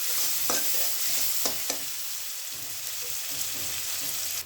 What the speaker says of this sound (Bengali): এটা ভালো করে ভাজে নেবো এখন।